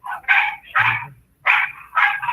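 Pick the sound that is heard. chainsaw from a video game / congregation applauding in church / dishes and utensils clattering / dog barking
dog barking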